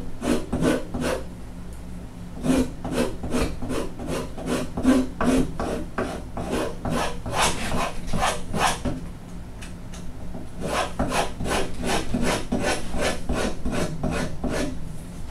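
A number 13 rasp shaping a wooden guitar neck, with close, loud, rhythmic strokes scraping back and forth in a steady series, pausing briefly midway before resuming.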